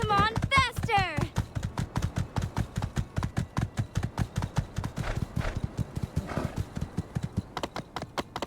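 Horse hooves clip-clopping at a steady gallop in the video game My Time At Sandrock, a continuous rhythmic beat throughout with a brief whinny near the start and someone talking over it.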